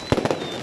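Fireworks at a pyrotechnic show for the 75th anniversary of Abbeville's liberation crack in three quick close bursts within a fraction of a second.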